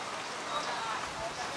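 Heavy rain pours onto surfaces in a thick, continuous hiss while someone walks under an umbrella, heard up close with a voice speaking over the downpour.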